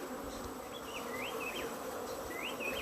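Honey bees buzz steadily around an opened hive frame with old drone cells, a dense close hum with scattered higher whines of individual bees passing near.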